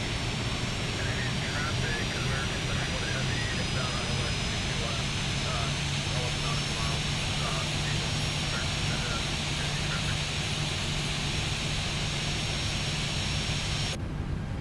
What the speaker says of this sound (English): Looks like we do have a good start on engine 1